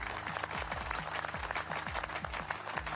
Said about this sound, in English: so I'm going to applaud to that.